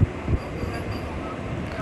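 A Narasapur–Guntur passenger train rolls along double-line tracks, a steady low rumble of wheels and carriage noise with wind buffeting, loud and continuous from close by.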